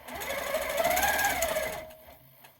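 A PLATINUM Q 165 sewing machine stitching along a ruler, a close, loud rapid needle chatter running for under two seconds before stopping and leaving a quiet tail.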